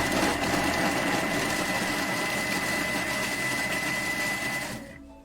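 A Thermomix spins at speed 5 for a few seconds, chopping garlic, ginger and turmeric with a steady, loud whirring drone that stops abruptly at the end.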